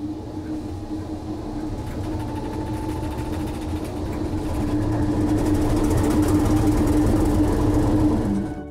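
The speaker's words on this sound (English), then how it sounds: "This is an English Electric 1470 horsepower 12-cylinder that was put in as a replacement for the original Merleys engines" A 1470 horsepower English Electric 12-cylinder diesel engine, fitted in a locomotive as a replacement for the original engines, idles with a steady low throb and mechanical clatter, growing louder and heavier about halfway through.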